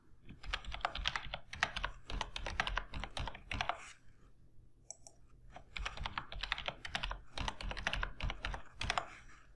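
Rapid computer keyboard typing while entering a password during a MySQL Server installation on Windows, steady clattering bursts of keystrokes with a brief pause midway, close and clear.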